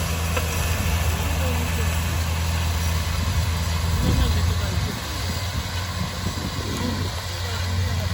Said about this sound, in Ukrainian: Виривається трактор уже з іншого кінця поля.